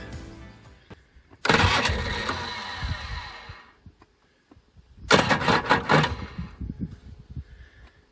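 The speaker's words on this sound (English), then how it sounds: "since the ATV did not start, I'm charging the battery" An ATV engine cranks twice without catching, each attempt a loud, close burst of starter whirring and mechanical chugging lasting a few seconds, separated by a short quiet pause, with no speech.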